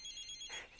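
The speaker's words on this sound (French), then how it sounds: "c'est mon portable." A mobile phone ringtone chirps faintly in an indoor scene, a short quiet electronic melody with no talk over it.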